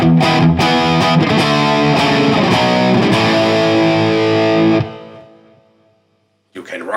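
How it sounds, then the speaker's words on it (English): A Gibson Les Paul electric guitar plays a crunchy, distorted rhythm, with strummed chords ringing out for several seconds before the sound fades to silence. "So here you have the crunchy distortion rhythm sound."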